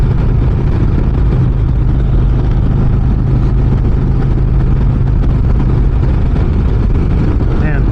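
A 2025 Harley-Davidson Street Glide Ultra motorcycle under way, its engine a steady loud drone mixed with heavy wind rush, continuous and unbroken throughout.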